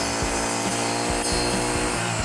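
Brush cutter fitted with a circular saw blade cutting through thick, tough branches, a loud high whirring drone broken by short rhythmic bursts as the blade bites into the wood.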